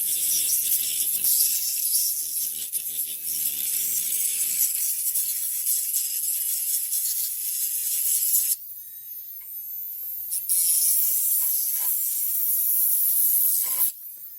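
Marathon K35 micro motor spinning a sandpaper attachment, a steady high-pitched whine with scratchy grinding that drops out briefly midway and then resumes, close and loud with no talking.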